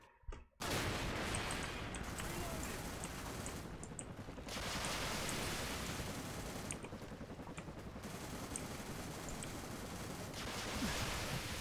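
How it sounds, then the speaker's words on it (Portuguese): Gunfire rattles on in a shooter video game, dense and nearly continuous with a few brief lulls. "Ô, Noia, para de atirar aí, já matou, velho."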